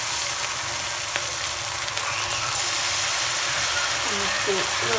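Cumin seeds and fish sizzle in hot oil in a home kitchen, a steady close crackling hiss that fills the whole stretch, with someone talking over it.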